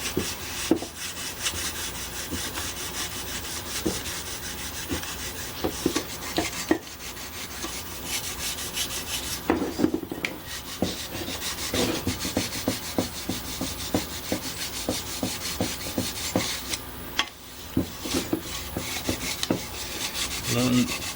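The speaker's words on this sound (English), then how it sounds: "Just kind of sand around it. Since it's so high of a grit, it shouldn't take off much metal." Fine, high grit sandpaper rubs by hand across metal on an Ex-cell VR2500-1 pressure washer part, making steady, close, rhythmic scratchy strokes with a few short pauses.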